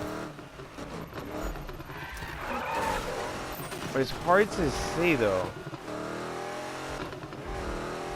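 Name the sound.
car drifting in video game Need for Speed 2015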